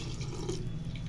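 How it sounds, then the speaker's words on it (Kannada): A little water poured into a vegetable curry in a pan, a soft steady trickle and splash, faint and close, with no talking. "ಫೈನಲಾಗಿ ಸ್ವಲ್ಪ ನೀರು ಹಾಕಿದ್ದೀವಿ."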